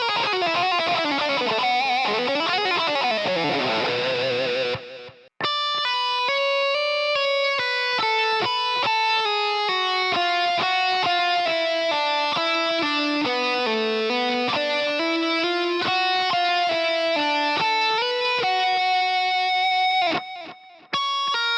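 Distorted electric guitar plays a fast legato exercise of hammer-ons and pull-offs, with rapid, smoothly connected notes running up and down through a heavy effects chain, loud and continuous with a brief break near the start.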